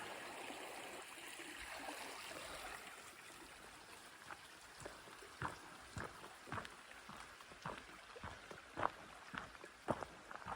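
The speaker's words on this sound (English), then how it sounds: "Super nice creek here." A creek on a hiking trail in Olympic National Park runs with a steady, broad wash of flowing water, joined in the second half by close, irregular crunching footsteps on the trail.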